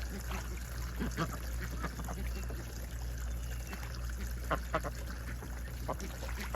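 Water trickles and pours steadily into a duck's bath, with faint quacking ducks nearby and soft background hum.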